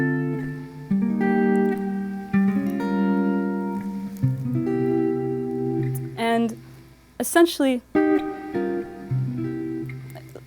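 Guitar voicing an altered dominant chord, strummed and sustained several times with brief melodic slides, while someone talks over part of it.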